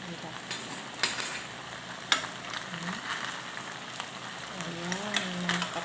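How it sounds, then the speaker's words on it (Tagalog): Pork sizzling as it grills in a pan on a kitchen stove, a steady soft frying hiss with a few sharp clicks and taps, and a faint voice in the background. "Nag-iihaw ako ng pork dito lang sa kalan mga kapalangga."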